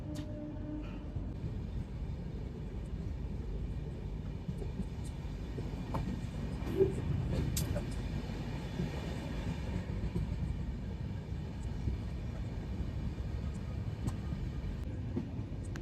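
The Somnath SF Express rumbles along steadily near Gandhinagar, a continuous low rolling train noise heard from inside the coach, with faint clatter and a few brief high squeaks over the drone.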